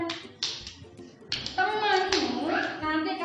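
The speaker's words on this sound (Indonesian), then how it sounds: "Kalau tepuk nyamuk kanan, silakan usahakan kena tangan kanan temanmu" Hands clapping in a mosquito-slap group game, a few sharp separate claps mixed with a voice and an adult talking over them.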